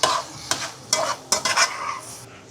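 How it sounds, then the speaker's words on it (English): Sausages with peppers and onions frying in a pan, a steady close sizzle broken by several sharp bursts of stirring and scraping, with no talking. "let's go ahead and put our sausages in the pan"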